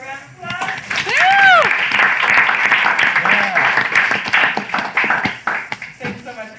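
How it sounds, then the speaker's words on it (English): Round of applause from an audience at a family and counselor panel event, fairly loud clapping mixed with a high-pitched whoop and cheers, thinning out toward the end. "Let's get Smooth out the round of applause."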